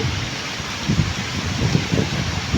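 Dense rain from Cyclone Remal hisses steadily onto a flooded yard, with soft low thumps pulsing underneath; no voices.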